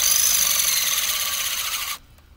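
Power drill driving a 1.5-inch spade bit into a wooden log, a steady high whine with rough grinding that holds for about two seconds and then cuts off abruptly, close and loud.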